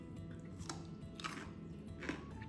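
Crunchy homemade half-sour garlic pickles being bitten and chewed, with three crisp crunches spaced about half a second apart over a low background hum.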